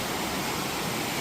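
A waterfall near a hidden hill temple roars as a steady, dense wash of falling water, loud and continuous with no voices over it.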